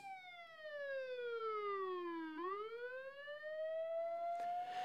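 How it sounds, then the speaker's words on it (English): An ambulance siren wails with its pitch sliding steadily downward, then swings back upward into a rising tone. It sounds clear and fairly faint, with no talking. "when the ambulance is moving away from you, the pitch drops and the tones become deeper"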